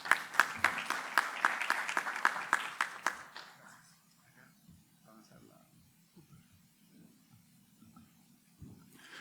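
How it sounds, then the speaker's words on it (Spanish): An audience at an electromobility conference claps to welcome a speaker: dense applause for about three seconds that fades into a quiet room with faint stray sounds. "Un aplauso para recibir a Bernard."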